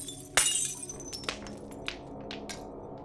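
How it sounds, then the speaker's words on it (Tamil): Glass falls and shatters with one sharp crash, followed by scattered tinkling shards and small clinks settling for a few seconds, close and clear with no voices. "கிளாஸ் கீழே விழுந்து உடையிற சத்தம்."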